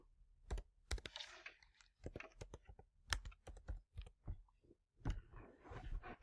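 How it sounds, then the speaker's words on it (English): Someone types a password on a computer keyboard: uneven bursts of close, crisp key clicks with short pauses between runs, with no talking. "So let's type that in."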